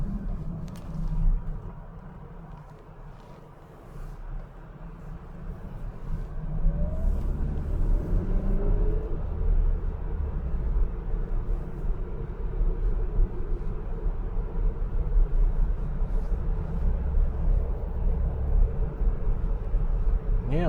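A VW Multivan rolls downhill on the Glaubenbielen Pass in the Alps under regenerative braking, with a loud, steady low rumble of road and cabin noise that builds after a few seconds and holds throughout.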